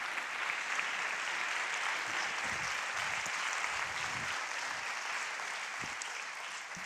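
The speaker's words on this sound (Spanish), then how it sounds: "Un aplauso para él." A science-outreach event audience in Valladolid claps for a prehistory professor taking the stage, a sustained, fairly distant roomful of applause that gently fades toward the end.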